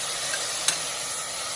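Crushed tomatoes and asafoetida sizzle in a pan of garlic for cabbage sabzi. A steady, close frying hiss runs throughout with one faint stir or clink, and no voices.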